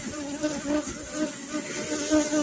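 Honey bees buzz at a beehive in a steady, close droning hum with a faint layered whine throughout. No voices are heard.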